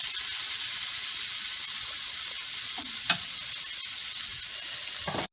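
A spice mixture for murgh saag, made with tomato paste, fries in a pan with a steady broadband sizzle. A spoon scrapes and stirs through it now and then, with a short sharper knock near the end.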